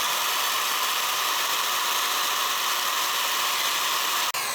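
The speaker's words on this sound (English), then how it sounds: "To use this Diablo hole saw or hole bit, it's got a screw head that pulls the bit into" A drill spinning a Diablo hole saw bit through a wooden gate: a steady, loud, high whirring grind held without a break, cut off abruptly near the end.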